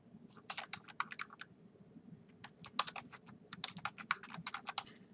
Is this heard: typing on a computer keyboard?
yes